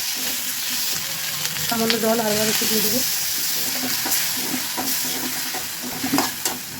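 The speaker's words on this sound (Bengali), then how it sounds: "মশলাটা ভাজা ভাজা হয়ে এসছে, আরও একটু ভাজবো যাতে কোনো রকম কাঁচা গন্ধ না থাকে।" Spice paste for a fish curry with winter vegetables and bori sizzles steadily in a pan, with scraping stir strokes throughout. Someone talks briefly over the frying.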